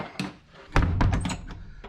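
A wooden door of a hiking hut on the Bibbulmun Track in Western Australia opens with a light knock-like tap, then a heavier thunk and a few short rattling bumps, close by.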